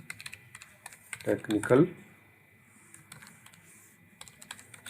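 Keys clack on a computer keyboard in quick, light bursts, with a brief spell of talk layered over the typing partway through.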